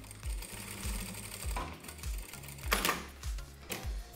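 A sewing machine stitches repeated reinforcing seams on a retro bikini top, producing rapid rhythmic mechanical thumping in several short bursts with brief pauses, close and steady.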